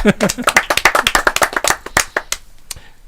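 An audience at a live show breaks into brisk, close clapping that thins out and trails off into a few scattered claps near the end, with voices talking over it.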